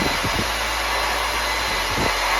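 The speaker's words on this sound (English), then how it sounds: "they said that a hairdryer would work" A hair dryer roars steadily on a high setting, a constant close-up whoosh of blowing air with a few faint low thumps.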